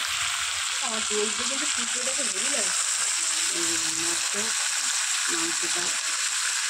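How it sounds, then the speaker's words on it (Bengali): Meat being fried and stirred in a pan over a wood fire, with a steady, loud sizzle throughout and a voice talking intermittently over it. "এই যে মাংসটা কষাচ্ছি"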